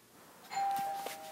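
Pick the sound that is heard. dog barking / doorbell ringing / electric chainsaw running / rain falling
doorbell ringing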